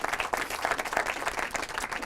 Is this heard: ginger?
no